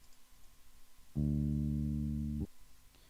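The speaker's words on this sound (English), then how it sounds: "So you can hear all the rest of the orchestra playing with it." A single sustained, steady virtual orchestra chord swells in, holds evenly for about a second, then cuts off, with quiet background hum before and after.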